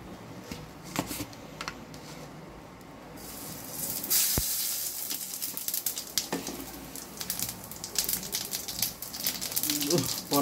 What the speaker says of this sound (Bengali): জিরা ফোড়ন দেবো